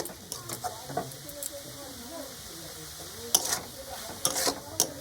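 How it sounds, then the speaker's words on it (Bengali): Chicken and salt are stirred together in a pan, with quiet, irregular scraping strokes of a utensil and a faint sizzle beneath, the strokes growing sharper near the end. "লবণটাকে দিয়ে আমি খুব ভালোভাবে চিকেনের সঙ্গে মিশিয়ে দেবো"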